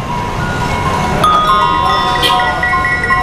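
Brass hanging chime in a handicraft shop, struck to give clear, sustained ringing tones, with a second strike adding a fresh shimmer as the first notes decay.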